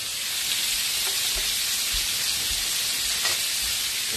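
Shrimp and scallops fry in a pan with a loud, close, steady sizzle, broken by faint stirring knocks and no talk.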